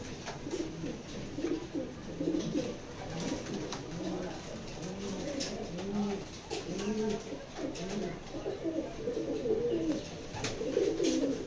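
A pair of racing Maxi pigeons coo repeatedly in soft, rolling phrases close by, over steady background hiss with faint voices and occasional clicks.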